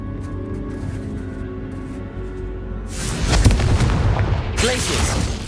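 Confringo explosion spell cast in Hogwarts Legacy on PS5 lands as a loud, close blast with crackling debris and a second burst, rising out of quieter game music.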